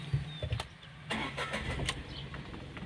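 Car engine cranking and catching after a key turn, with a start at about one second settling into a steady low idle, with faint clicks of the ignition before it.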